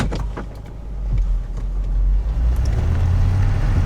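A 20-year-old Lexus GS with a 4.6-litre V8 is being driven, its engine a quiet, smooth low purr inside the cabin that swells gently and stays steady, with faint small clicks over it.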